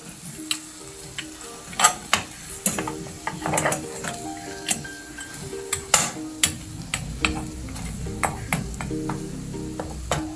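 Pork browning in a pot for sinigang, crackling and sizzling steadily with sharp intermittent pops and ticks, plus occasional utensil clinks, close and fairly loud with no talking.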